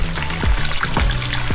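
Water trickles and splashes down a front-door garden waterfall display beside a large swim pond in Northamptonshire, a close, steady babbling flow with a few deeper gulping splashes.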